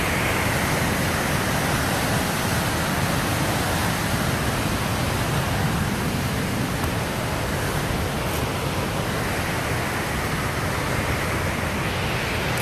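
A waterfall on a hiking trail pours in a dense, steady, full-bodied rush of water, loud and continuous throughout with no pauses or voices.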